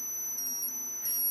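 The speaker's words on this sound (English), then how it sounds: "that's the sound that the little buzzer is making" Small piezo buzzer driven by a 555 timer circuit emits a steady, high-pitched continuous tone, close and even, with a faint electrical hum underneath.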